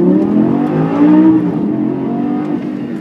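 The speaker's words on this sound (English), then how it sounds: "right now, baby, I'm driving a Lamborghini" A Lamborghini Superleggera pulls hard under acceleration, its engine note rising in a loud, smooth whine heard from close by, steady and unbroken across the few seconds.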